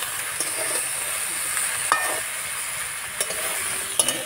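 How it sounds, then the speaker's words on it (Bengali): Cauliflower and spring onion shoots sizzle steadily in a frying pan with curry leaves while a spatula stirs them, a few sharp scrapes and clicks rising over the constant hiss. "দিয়ে আবার একটু নাড়াচাড়া করে ঢাকা দিতে হবে"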